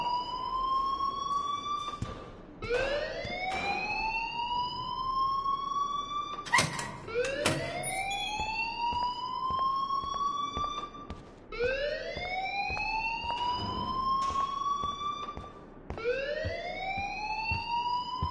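A building alarm in the video game Life is Strange wails in loud, repeated rising sweeps, each climbing in pitch and then restarting, continuous and alone without talk.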